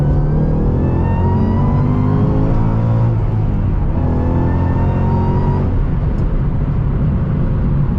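A 2014 Shelby GT500 engine revs loudly and close up while downshifting into second gear, its deep growl rising and falling in waves with no talking.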